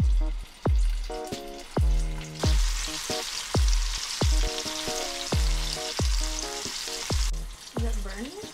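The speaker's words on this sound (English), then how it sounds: "When you're frying, breadcrumbs are going to burn." Breadcrumb-coated popcorn chicken sizzles steadily in hot oil, a constant crackling hiss close by, broken by repeated thumping beats of background music.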